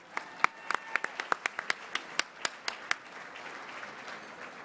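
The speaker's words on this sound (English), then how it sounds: "Give a big round of applause for the Director of Political Strategy and Advocacy, Miss Jennifer Zinicola." An audience at a national leadership luncheon claps for a speaker being introduced, a faint spread of sharp, separate hand claps that thin out over a few seconds.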